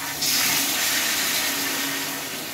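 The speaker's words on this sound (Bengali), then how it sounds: "জলটা অল্প করে দিয়ে নিলাম।" Water is poured into a cooking pan of potato and egg curry, a steady close rushing splash that starts abruptly and continues evenly without speech.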